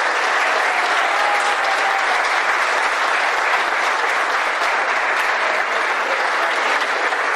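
Warm, sustained applause from an audience at a technical school event, a dense, even roar of many clapping hands that holds steady throughout without letting up.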